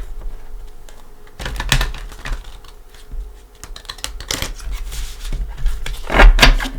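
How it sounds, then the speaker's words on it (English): Tarot cards riffle and slap together in several quick, close shuffling bursts, crisp and papery, with no one speaking. "we're going to give them a couple shuffles"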